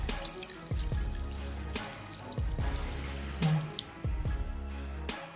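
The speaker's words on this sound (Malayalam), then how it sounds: "ഇനി കുറച്ച് വെള്ളം ഒഴിച്ച് കൊടുക്കാം" Water splashes and pours in short bursts onto chicken pieces for broast chicken, several separate streams with brief pauses between them, close and clear.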